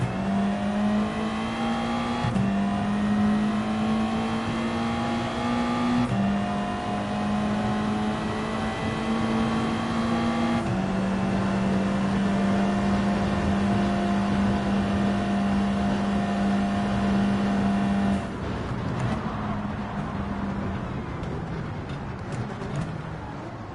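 Race car engines drone steadily in Gran Turismo 7 on the Deep Forest Reverse circuit, a sustained high-revving tone that shifts pitch with each gear change and eases off near the end.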